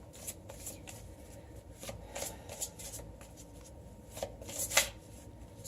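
A tarot card deck shuffled by hand, soft riffling bursts and flicks repeating at close range, fairly quiet, with no talking.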